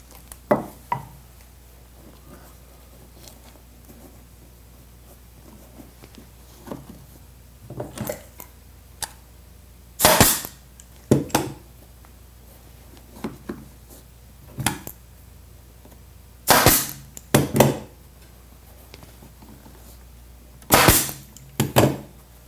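A staple gun drives staples through upholstery fabric into the frame of an Eastlake chair: sharp, loud single snaps, spaced irregularly, some in quick pairs, over a quiet background.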